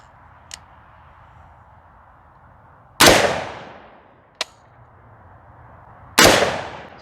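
Rifle shots on a shooting range heard through electronic ear protection: two sharp, loud cracks a few seconds apart, each cut short and fading quickly, with smaller brief clicks between them over a quiet background.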